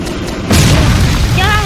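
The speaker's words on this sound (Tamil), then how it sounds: "ஐயோ என்ன இப்படி வெடிக்கிறான்?" A single loud boom from a firecracker-like bomb bursts suddenly after a brief lull, followed by a lingering rumble, with a voice speaking near the end.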